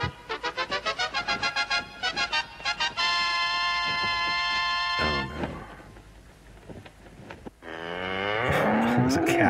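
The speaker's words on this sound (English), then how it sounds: "Cows doing William Shakespeare" Cows mooing loudly, long drawn-out lowing calls one after another, after a rapid rhythmic pulsing tone at the start.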